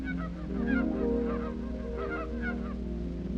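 A flock of geese honks repeatedly, overlapping calls rising and falling over a steady low rumble in the background, from a 1940 16mm film.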